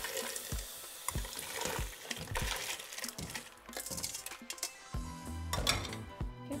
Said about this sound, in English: Make sure that you rinse it real good.